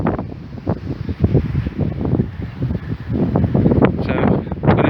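Strong wind buffets the microphone on a hillside facing the Welsh mountains, loud gusty rumbling and flapping that rises and falls irregularly with no clear pauses.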